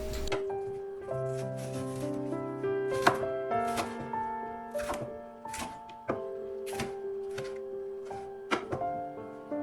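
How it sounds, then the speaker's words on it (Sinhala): A knife chops leeks on a cutting board with a dozen or so crisp, evenly spaced thunks, close and clear over soft background music. "අපි මේකට දාන්න ලීක්ස් ගහකුත් කපා ගමු"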